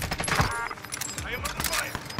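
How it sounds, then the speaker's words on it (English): Rapid gunfire in the battle royale game Warzone, a quick burst of close shots and clattering hits over about two seconds, with some voice mixed in. "I am under fire."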